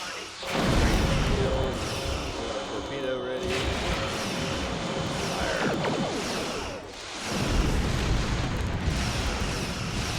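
Torpedo fire and explosions in a Star Trek Online space battle against a Borg sphere, a dense sustained roar of blasts and booms with a brief lull near the end before the barrage swells again, loud and continuous.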